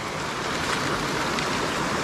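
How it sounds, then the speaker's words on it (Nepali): A mountain stream at a campsite in Wales flows steadily, a close, continuous rushing hiss of water with no break and no voices. "तर यहाँको खोला चिप्लो छ है चिप्लो"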